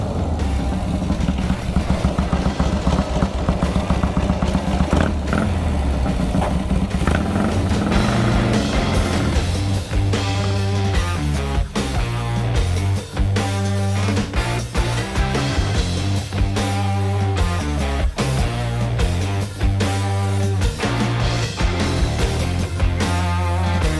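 A pre-unit Triumph chopper motorcycle on its first ride, its engine droning loud and steady throughout, the rhythmic pulse of the exhaust clearly audible as it rolls along with no talk.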